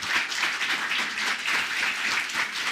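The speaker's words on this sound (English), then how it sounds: "So please, another round of applause for Jerry and VCP SoCal Poets." Audience applause at a poetry reading with the Valley Contemporary SoCal Poets: steady, moderately loud clapping from a room of listeners that holds evenly throughout, with no voices over it.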